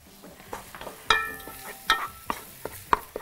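A spoon stirs freekeh and onion in a cooking pot, giving scattered scraping and clinking strokes with a light sizzle underneath, close and fairly quiet.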